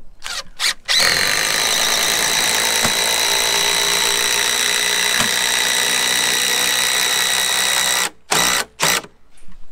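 A power driver sinks a long FastenMaster ThruLOK structural screw through a wooden pergola post, a few short bursts and then one continuous high whining run of about seven seconds, loud and close, followed by brief final pulses.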